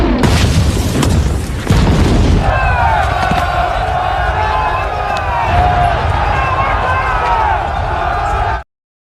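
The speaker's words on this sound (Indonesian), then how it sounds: "Serangan bom yang dijatuhkan pun tepat mengenai sasaran dan menghancurkan sebagian markas musuh." Aerial bomb blasts in a war film about American special forces hunting the Taliban in Afghanistan: a loud, booming rumble with crashing debris for about two seconds, then a sustained roaring drone until an abrupt cut.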